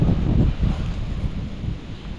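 Strong gusting wind with rain outdoors among orchid plants, a heavy low rumbling roar buffeting close to the microphone, swelling and easing in waves with a constant wash of rain beneath.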